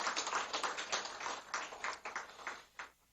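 Congregation clapping at a Friday evening church prayer service, a dense, steady patter of many hands filling the room, slightly distant and even in level throughout.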